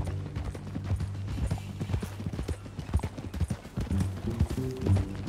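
Horse hooves clip-clop at a steady walking pace in Red Dead Redemption 2, close and fairly loud over a low, sustained musical drone.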